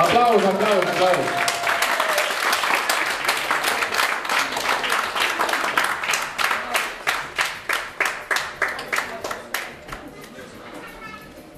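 An audience at an award ceremony applauds, starting under a speaking voice and settling into sharp, evenly spaced rhythmic claps that thin out and fade near the end.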